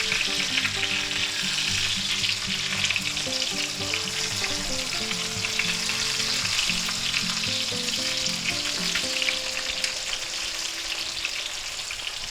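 Chicken fried steaks crackle and sizzle steadily in a hot pan of oil, a loud, dense, continuous frying hiss with no voices.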